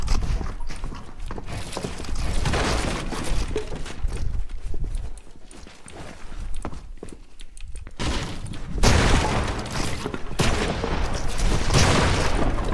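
Fortnite gameplay gunfire, including a pump shotgun, comes as dense rapid bursts of shots and impacts. The volley runs loud and nearly continuous, with a brief lull before it resumes just as hard.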